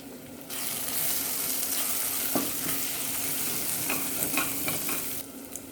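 Ground spices including coriander powder and a pinch of nutmeg fry and sizzle steadily in a pan for goat head curry, with a continuous hiss and occasional stirring clinks, close and moderately loud, no voices.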